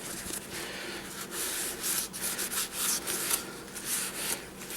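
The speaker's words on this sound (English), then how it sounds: "You can take your paper towel and wipe off all the crap that you just scraped off of them pins." Paper towel rubbed briskly over the cleaned 72-pin connector pins of a Nintendo Entertainment System, giving a continuous close scrubbing hiss with rhythmic back-and-forth swells.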